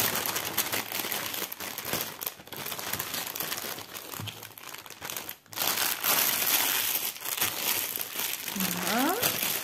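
Packaging paper and plastic are crumpled and crinkled while a gift box is unpacked, with loud, continuous rustling in bursts and a short pause mid-way; a voice speaks over parts of it.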